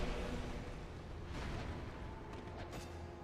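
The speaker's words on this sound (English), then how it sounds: "I really wish that explosion would actually hurt them too." A muffled explosion in a dark fantasy action role-playing game gives a deep, sustained rumbling boom that fills the clip, with a faint crackling burst near the end.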